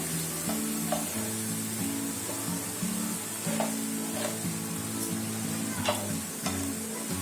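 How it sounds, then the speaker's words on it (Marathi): Chopped ginger drops into hot oil in a pan with the gas already turned off for a Maharashtrian pickle, giving a steady, close sizzle and frying crackle with faint stirring clinks throughout. "आता मी अद्रक टाकते."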